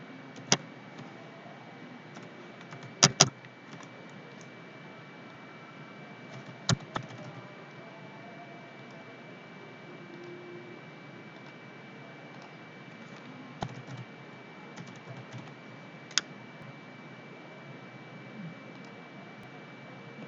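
Sparse keystrokes on a computer keyboard while a record is entered in an MS Access form: a few isolated clicks and short bursts spread over a steady electrical hum, with no talking.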